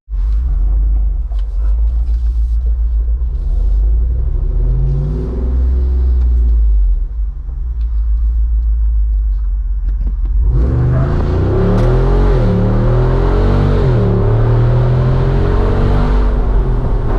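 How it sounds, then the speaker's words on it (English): A 2024 Jeep Wrangler Rubicon 392 Final Edition idles with a deep exhaust rumble, then revs up sharply and roars loudly with throaty exhaust bursts for several seconds. "a ground-shaking difference between the two exhaust functions"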